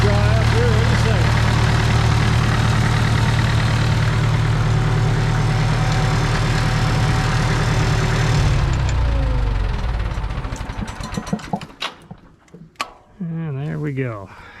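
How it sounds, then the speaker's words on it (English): A Farmall MD tractor engine thrums loudly and steadily nearby, then sputters and winds down as the carburetor runs dry, leaving quieter sounds and brief voices at the end. "Run that carburetor dry. No fuel. Should dry up here in a second."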